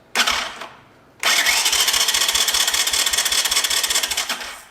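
An old abandoned Honda three-wheeler engine cranks over on a booster pack, a loud, fast rhythmic churning that starts briefly, pauses for about a second, then spins steadily for several seconds before tapering off.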